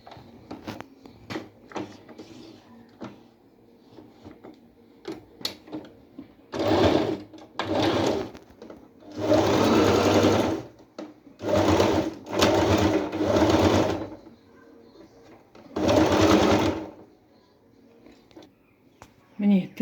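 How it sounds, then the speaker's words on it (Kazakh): A sewing machine stitches along elastic on a fabric bandana in several rapid whirring bursts of one to two seconds, separated by quiet pauses with small handling clicks and a voice talking between runs. "Қазір мына жерде тігіп шығамын мен резинканың бойымен."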